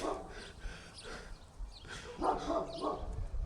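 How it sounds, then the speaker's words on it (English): Off-leash dogs bark in short repeated bursts at moderate distance, some yips mixed in, with an outdoor background. "They were barking at him."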